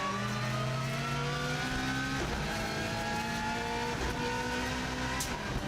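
Subaru WRX STI race car engine at full effort on a record lap up a steep hill course, loud and close, with rising and falling revs across gear changes and no talk.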